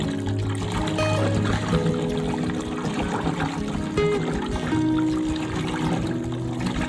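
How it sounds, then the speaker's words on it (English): Palm fruits being rinsed with water while preparing banga soup: continuous pouring and trickling water with light splashing, close up and steady throughout. "I'm going to give this a good rinse and then proceed to boil with just water."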